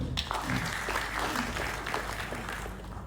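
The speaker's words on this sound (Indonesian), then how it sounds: "Tepuk tangan untuk beliau." Audience applause at a KADIN Bali chamber of commerce flag ceremony, dense and sustained clapping heard close and fairly loud throughout.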